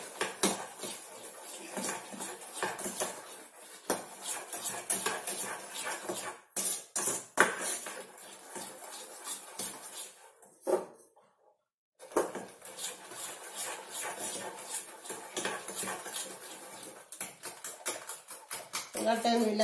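A spoon scrapes and clinks steadily against a bowl as powdered sugar is stirred into a mixture, a busy rattling rhythm that pauses briefly midway before resuming.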